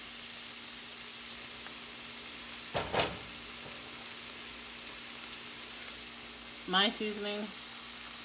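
Seasoned beef sizzling in a pan for a New York chopped cheese sandwich, a steady broadband hiss of frying that runs throughout, with a brief clatter and a short spoken comment partway through.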